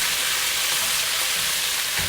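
Low-carb noodles being stir-fried for keto pad thai, a steady close sizzle with soft scraping and tossing throughout, no voices.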